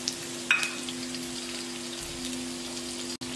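Green chilli, ginger and garlic sautéing in a pan, with peas going in, as part of a vegetable soup: a steady, faint sizzle runs throughout, with a brief louder clatter near the start and a steady low hum underneath.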